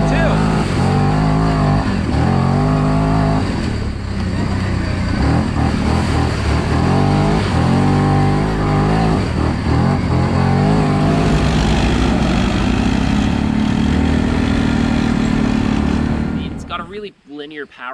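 A Segway Snarler 570 ATV engine drones loudly while riding, rising and falling with throttle changes, with someone talking over the engine noise before it cuts out near the end.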